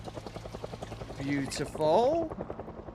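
A helicopter in the zombie survival game Project Zomboid thumps with a steady rhythmic rotor chop in the background while someone speaks briefly over it.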